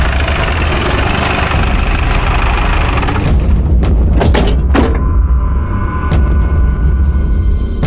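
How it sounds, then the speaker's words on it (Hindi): A motorcycle engine runs steadily at a loud idle close by, with a few sharp thumps and clicks cutting in partway through. "ये तो विलास की बाइक है।"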